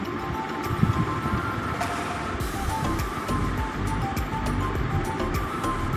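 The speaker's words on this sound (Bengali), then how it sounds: "এবার সমস্ত সবজির সঙ্গে আদাটাকেও আমি ভেজে নেব" Mixed vegetables and grated ginger fry in a pan for a potato kachori filling. The sizzle is a loud, dense and continuous hiss that stays steady throughout, with no speech.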